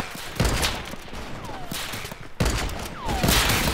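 Heavy sniper rifle shots ring out in Fortnite Mobile: a few loud, sharp blasts spaced apart over steady game ambience, with no talking.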